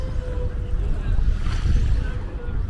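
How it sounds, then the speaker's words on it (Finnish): Water laps along the Lisbon harbour waterfront on the river, a low, continuous rumble of waves with wind buffeting the microphone, loud and close, while a voice talks faintly underneath. "Tässä on tätä Portugalin, siis Lissabonin satama-aluetta."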